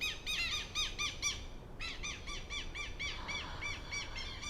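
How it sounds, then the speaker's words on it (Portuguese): Birds sing outdoors in a repeated series of bright squawking, chirping calls in rhythmic bursts, fairly close and steady, with a short pause midway and no voices. "Ó, os passarinhos cantando."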